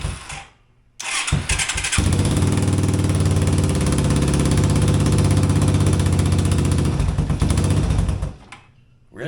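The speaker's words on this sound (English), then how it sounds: "I think that idle was just turned way too far down." A cheap three-wheeler engine fires up after a short crank and settles into a loud, steady idle that runs for several seconds, close by, then cuts off near the end.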